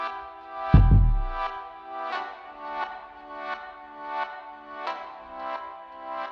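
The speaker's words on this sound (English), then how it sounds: "So the first synth sound you hear is this one." A synth part in pop production with a phone-style filter notch, giving a thin, band-limited tone that pulses in swelling chords, with a single deep bass hit early on.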